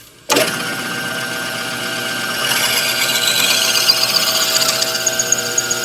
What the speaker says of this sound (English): This is a particularly difficult drilling operation here.